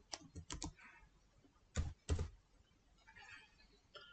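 Someone types on a computer keyboard to search for Troubleshoot from the Windows 10 Start menu. A few quick clicks come first, then two louder keystrokes and some lighter taps, close by with no speech.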